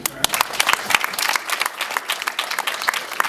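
Applause fills a traditional Rwandan wedding, a crowd clapping loudly and continuously with sharp, uneven claps, while voices talk beneath it.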